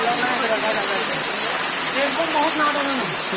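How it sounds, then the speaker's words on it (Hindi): Waterfall at Mada Ghat dam near Kawardha rushes in a loud, steady wash of falling water close by, with faint voices and shouts of picnickers mixed in. "देख सकते हैं यहाँ पे झरने में मजा ले रहे हैं थोड़ी मस्ती के साथ।"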